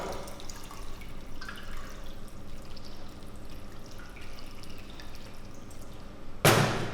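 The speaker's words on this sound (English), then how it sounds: "once you remove the pasta from the flame, you have to rinse it with some cold water" Cold tap water runs steadily over freshly cooked spinach pasta in a kitchen, a continuous splashing wash, followed by a brief louder gush near the end.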